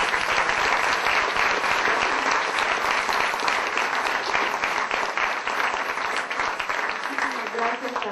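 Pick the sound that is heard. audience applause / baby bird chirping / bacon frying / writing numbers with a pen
audience applause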